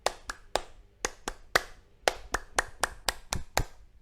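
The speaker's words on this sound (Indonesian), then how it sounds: "Sekali lagi, tepuk pramuka." A group performing the Indonesian scout clap, sharp rhythmic hand claps in a patterned sequence of about fifteen crisp, close beats with short gaps between groups.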